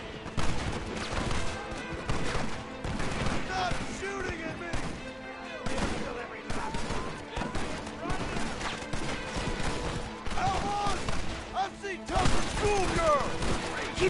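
A video game shootout fills the scene with dense, continuous gunfire, many overlapping shots near and far, and voices mixed in underneath.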